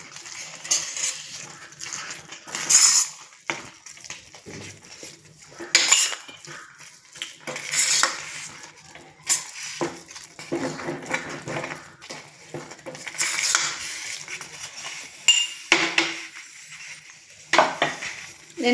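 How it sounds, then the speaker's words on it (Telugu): A spoon stirs jaggery rice in a metal pot until the jaggery melts for a temple-style prasadam, making repeated clinks and scrapes in irregular bursts with quiet gaps between them. "బెల్లం కరిగే వరకు బాగా నీట్గా మిక్స్ చేసుకోవాలి."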